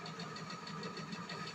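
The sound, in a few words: car engine running in video game GTA V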